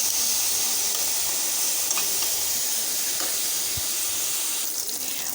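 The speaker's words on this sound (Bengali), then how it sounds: "মাংসটা আমি ভালো করে ভেজে নেব।" Chicken meat with salt and turmeric frying in hot oil, a continuous close crackling sizzle with occasional stirring clicks and pops, steady and without talk.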